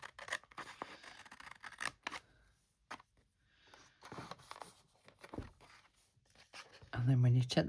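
Scissors snip around a paper embellishment in a series of close, crisp cuts with pauses between them, plus a louder rustle of paper at the end.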